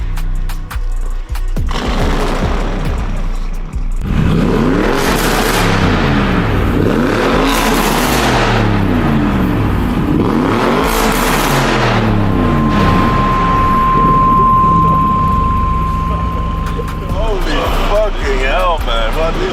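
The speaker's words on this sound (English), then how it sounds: "So guys, it is a Capristo exhaust" A car fitted with a Capristo exhaust revs hard in repeated surges, each rising and falling roar loud and close, with a crackling burble between blips and voices talking over it.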